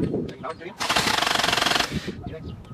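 A car engine cranks on its starter during a fuel injector test, a rapid pulsing churn lasting about a second, with voices talking around it.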